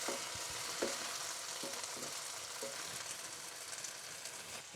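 Coarsely chopped chilies sizzle in a hot pan while being stirred, giving a loud, continuous close frying hiss broken by soft scraping stir strokes, with no talk.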